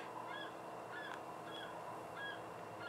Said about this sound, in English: It's a seabird.